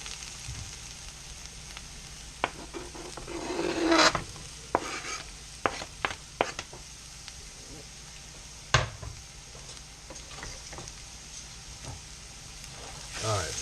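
Garlic sizzles steadily in hot oil with caramelized onions in a pan, a constant crackling hiss broken by scattered scrapes and knocks of a spoon stirring, close and moderately loud throughout.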